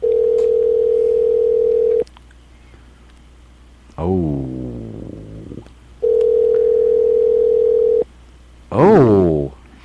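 A telephone ringback tone sounds in steady two-second bursts, loud and clear, alternating with brief spoken interjections between the rings during a radio show call.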